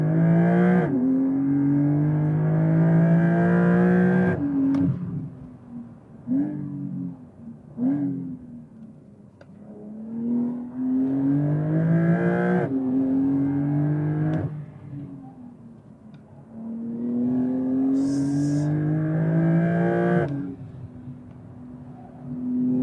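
A 2023 Porsche 911 Carrera GTS engine is held at launch-control revs around 5,000 RPM, rising and falling in repeated loud surges separated by short idling lulls, close by and with no voices.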